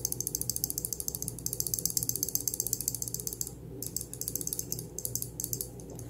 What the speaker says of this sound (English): Hear that rattle?